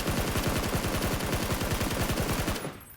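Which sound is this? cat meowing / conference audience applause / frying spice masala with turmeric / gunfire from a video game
gunfire from a video game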